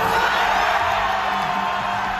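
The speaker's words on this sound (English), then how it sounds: "Crowds outside the court were jubilant." Jubilant crowd outside South Korea's constitutional court after the ruling against President Yoon, a dense, steady roar of cheering with whoops and yells, sustained and loud throughout.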